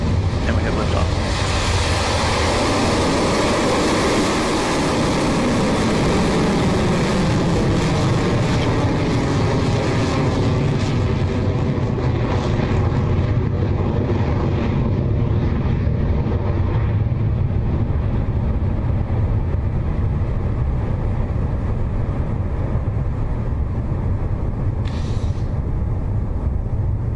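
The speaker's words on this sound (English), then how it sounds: "Our 45th Electron is now in the air, having successfully lifted off the pad at Launch Complex 1." Rocket Lab Electron rocket lifting off from Launch Complex 1 on a night launch, a loud sustained broadband roar that rumbles steadily throughout and slowly thins as the vehicle climbs away.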